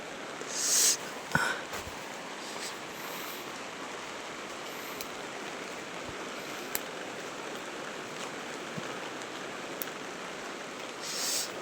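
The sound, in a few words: heavy rain falling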